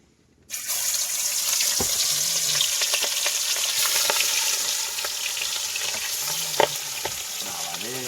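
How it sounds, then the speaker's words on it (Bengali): Fish fries in a hot wok on a fishing boat on a river at night, the sizzle bursting in loudly after a quiet start and holding steady, broken by a few scraping clinks of a utensil. "মাছ ভেজে নিই"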